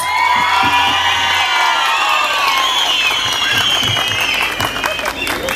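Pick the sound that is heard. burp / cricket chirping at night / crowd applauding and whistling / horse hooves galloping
crowd applauding and whistling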